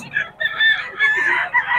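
Roosters crow repeatedly at a Bocaue market, several loud, near cock-a-doodle-doo calls overlapping with clucking fowl in quick succession, a faint voice in the background.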